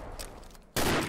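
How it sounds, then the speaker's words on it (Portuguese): Gunfire is exchanged in the video game Combat Arms, faint distant shots at first, then a sudden loud burst of rapid fire that fills the last third of a second. "Tem um cara ali, a trocação de tiro está franca ali."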